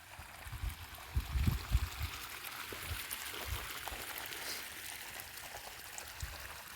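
Irrigation water flows into a farm field, a steady, moderately loud watery rush with low gurgling bursts near the start.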